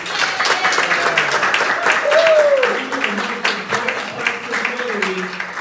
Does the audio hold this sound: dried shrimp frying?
no